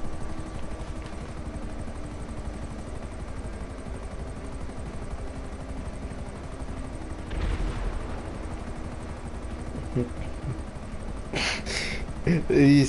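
GTA Online helicopter droning steadily throughout, with bursts of gunfire-like cracks and booms near the end and talk mixed in.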